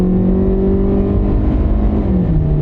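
A car with an automatic transmission and about 100,000 miles accelerates hard under load, its steady engine drone rising in pitch and then dropping as the gearbox makes a smooth upshift, loud and continuous from inside the vehicle.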